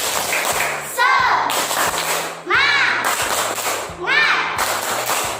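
Children clap a rhythmic classroom cheer pattern, sharp hand claps in bursts between loud chanted voices, with a teacher's voice and kids shouting along throughout.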